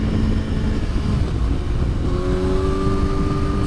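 A new motorcycle cruising through corners, its engine droning steadily and loud up close, with a rising whine as it pulls out of a bend.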